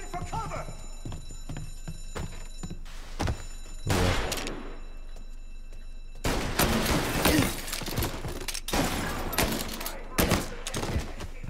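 Gunfire bursts in Mafia Definitive Edition, with broadband shots clustered around four seconds and dense volleys from six seconds onward, loud and close over a steady game backdrop with talk.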